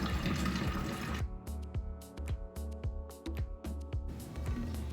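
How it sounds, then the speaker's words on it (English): Water poured into a bottle, a dense rushing splash at first that breaks into a series of gurgling glugs and drips as the bottle fills, close and fairly loud. "So you're just basically gonna fill the bottle up with water."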